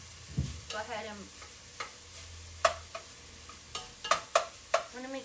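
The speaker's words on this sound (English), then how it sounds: "So we have our garlic, our onion, and our sausage browning." Garlic, onion and sausage brown in a pan with a soft, steady sizzle under repeated sharp clacks and scrapes of a utensil stirring against the pan, close up.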